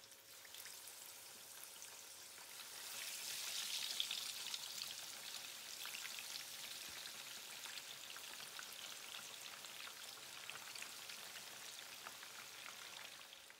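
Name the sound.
fish frying in hot oil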